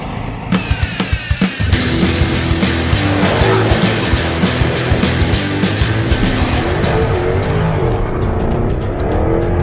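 A Jaguar F-Type driven hard, its engine roaring loud and steady as tires squeal and skid, after a few sharp bangs at the start.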